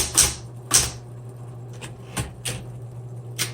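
1970s Smith Corona Electra 120 electric typewriter typing, a handful of sharp separate key strikes spaced irregularly over a low steady motor hum, close and alone.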